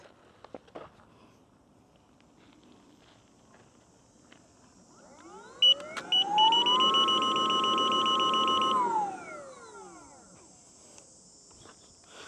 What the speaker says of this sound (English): Now let's look at the free spin.